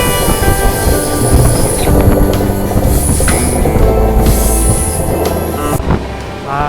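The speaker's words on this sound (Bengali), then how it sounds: "জঙ্গলের মধ্যে দিয়ে ট্রেন ছুটে চলেছে" The Kanchankanya Express runs through forest with a loud, continuous rumble and wheel clatter, with squeals and rattles over it. It is heard close from on board the train.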